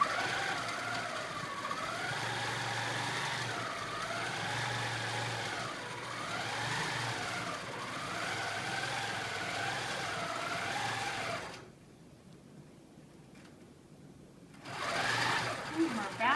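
A long arm sewing machine stitches binding onto a quilt with a steady mechanical hum and rapid needle clatter, the motor rising and falling in pitch, pausing briefly near the end before resuming.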